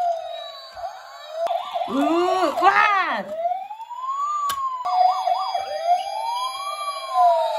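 A toy-style police car siren wails in rising and falling sweeps, loud and close, with a brief rush of warbling tones in the middle; a voice exclaims briefly over it.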